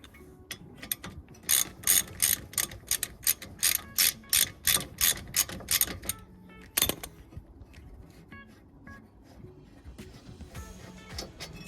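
Ratchet undoing a brake caliper carrier bolt on a Ford Focus, a series of sharp rapid clicking strokes in quick bursts up close, then quieter handling noises after the bolt comes free.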